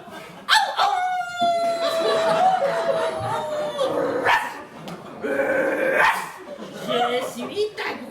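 A voice imitates a dog, letting out a run of barks and yelps, some drawn out like howls, close and loud, with spoken words and laughter mixed in between.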